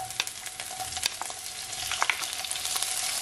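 Shredded cabbage fries in a pan with chopped tomato added, giving a steady close sizzle and crackle with scattered sharp pops and stirring scrapes.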